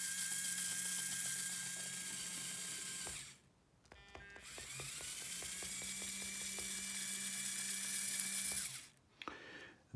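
Small electric motor driving an assembly of random LEGO parts, giving a steady whirring, ratcheting mechanical drone that cuts out briefly twice, with a short clicking stretch between runs.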